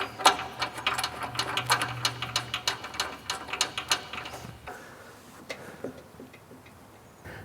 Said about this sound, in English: I like to push up on the button and then grab the top of the ratchet handle to turn